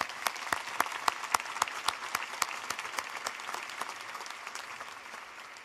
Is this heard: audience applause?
yes